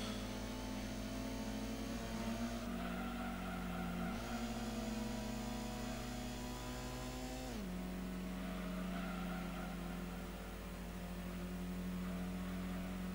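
Race car in Gran Turismo working through a corner, the engine note dropping and climbing again as it lifts off and accelerates, a steady mechanical drone at moderate level with no one talking.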